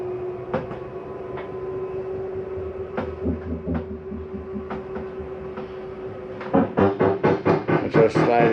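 A slide-out motor on a 2016 Coachman Catalina 293RLDS camper draws the dinette slide in with a steady mechanical hum and scattered clicks, then ends in a run of loud, rhythmic clunks as it stops.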